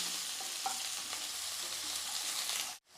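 Chopped onions sautéing in a pan for sambar, a dense, loud sizzle with stirring scrapes that cuts off abruptly near the end.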